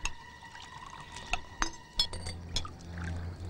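Cold water is poured from a container with a glass clinking, splashing and trickling in short bursts over a steady low background.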